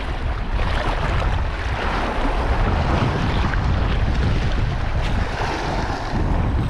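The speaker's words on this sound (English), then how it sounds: "It's getting a bit windy now." Strong wind buffets the microphone on a Jamaican shoreline while lure fishing, a loud continuous roar mixed with waves breaking on the shore and no talking.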